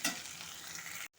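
Peas and mixed vegetables frying in a pan for navratan biryani, a steady close sizzle with stirring that runs for about a second and then cuts off abruptly.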